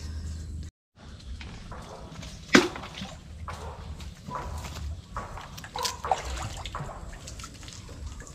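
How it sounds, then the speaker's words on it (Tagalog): Water trickles and splashes quietly into an old boat in an open space, with a few sharper clunks and drips along the way. "Ito po yung pupunuin itong lumang bangka."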